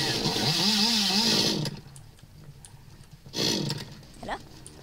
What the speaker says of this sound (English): He's got our chainsaw going.